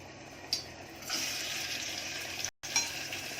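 A medium onion drops into a pan with about two spoons of hot oil, giving a steady close hiss and sizzle with a brief break and a few small clinks.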